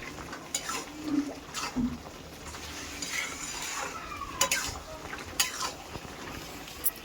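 Kochu data (taro stems) being stirred with grated coconut in a pan, with soft scraping, clinks of a utensil against the metal and faint sizzling, quiet and intermittent without talk.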